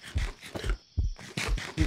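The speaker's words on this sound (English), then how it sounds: "I hear my heart beating." Heartbeat effect from modded Minecraft: loud, close, rapid thumping pulses repeating in a steady rhythm with no talk over them.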